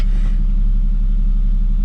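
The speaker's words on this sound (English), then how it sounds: "The M52 starter sounds so much better." Steady, loud, close low rumble of a turbocharged BMW M52 engine in an E30 running at idle, a constant throbbing drone with no talking.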